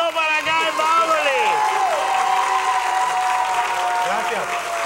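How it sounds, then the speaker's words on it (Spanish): Applause from a TV studio audience during a mentalist's show, a steady wash of clapping that runs throughout, overlaid by a host's voice and music-like tones. "Otro aplauso para Guy Mavely."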